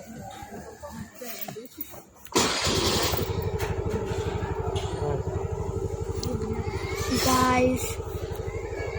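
A car engine turns over and catches, then settles into a steady close idle and running drone as dad drives the family to dinner, with a voice speaking briefly before it starts.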